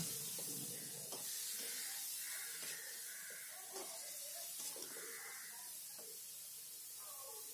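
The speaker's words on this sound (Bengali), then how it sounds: "এবার চিকেনের সাথে আমি পেঁয়াজটাকে একটু ভালো করে ভেজে নেব।" Chopped onion sizzles with chicken in a pan, a steady soft hiss and crackle that runs throughout, while someone talks over it.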